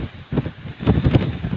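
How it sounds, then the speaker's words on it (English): Strong wind buffets the microphone on an exposed west coast clifftop, rough gusty rumbling that swells and fades in bursts, loudest near the end, with no other sounds. "Very, very exposed, very, very windy."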